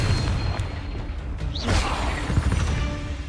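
A Confringo blasting spell from Hogwarts Legacy erupts into a booming explosion with crashing bursts, loud and close, followed by a rising whistling streak and further pops as the blast settles.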